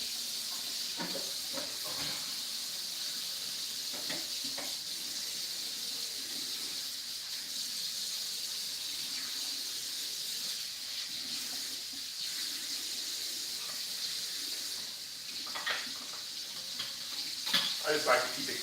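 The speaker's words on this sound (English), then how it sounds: "gonna go over here and rinse off my coffee pot" Water runs in a steady hissing stream while a coffee pot is rinsed out, continuous and moderately loud, with a few brief clinks and splashes near the end.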